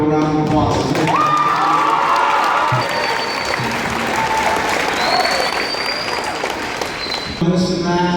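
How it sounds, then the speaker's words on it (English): At a high school pep assembly, a large crowd in a gym applauds and cheers loudly and steadily. Voices shout over the clapping, and a single voice comes through near the end. "you guys need to give a round of applause for the fans that come out every day"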